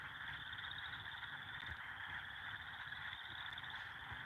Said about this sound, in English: I think frogs, they go right up until the morning, do they?